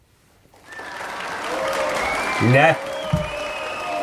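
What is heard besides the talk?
recorded applause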